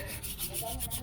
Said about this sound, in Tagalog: gagamitan din natin ng liha or sandpaper na 1000 CW para kuminis talaga